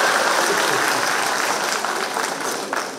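Audience applause at a Nepali stage event, a dense, steady clapping from a large crowd that fills the whole stretch at close range and tapers slightly near the end.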